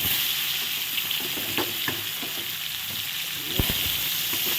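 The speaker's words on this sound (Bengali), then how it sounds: "এই একই তেলে আলুগুলো আমি প্রথমে ভেজে নেব।" Potatoes frying in oil in a pan give a steady, close hiss of sizzling with a few sharp ladle knocks and scrapes against the pan; no one speaks.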